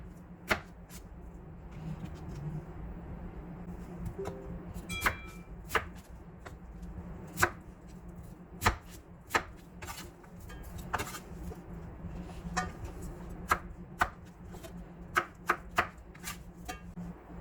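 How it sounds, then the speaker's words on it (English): A knife cuts radish into bite-sized squares for kakdugi kimchi, producing crisp irregular chopping knocks on a cutting board, close and fairly quiet, with no talk. "wash the radish thoroughly and cut it into bite-sized squares"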